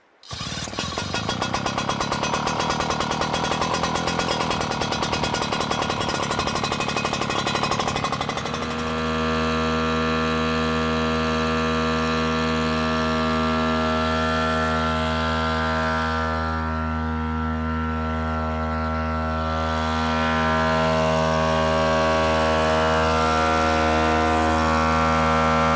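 A Wildfire Mark 3 portable high-pressure pump engine runs after a pull start, loud and close. It starts with a rough, rapid two-stroke rattle and then settles into a steady, droning buzz with no talk.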